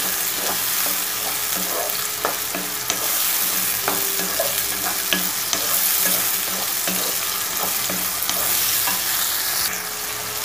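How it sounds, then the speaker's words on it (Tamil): Tomatoes sauté in a pan for egg kurma, crackling in a dense, steady sizzle close by, with frequent scrapes and clicks as they are stirred. "தக்காளி நல்லா வதங்கட்டும்."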